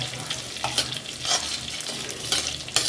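Green chillies and onion sizzle loudly in a hot pan for fish curry, a continuous crackling fry broken by a few scraping stirs, close and with no voices.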